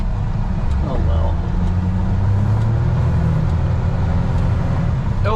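A 4-wheel drive vehicle drives along a snowy, slick road, its engine a steady low rumble under constant road and cabin noise throughout, with no break in the drone.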